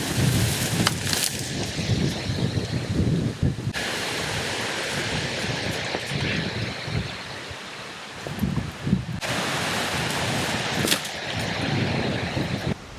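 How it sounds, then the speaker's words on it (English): Gusty wind sweeps through storm-damaged trees during a storm, a loud, steady broadband roar with surging gusts and rustling that rises and falls over the whole stretch, heard alone. "Getting windy."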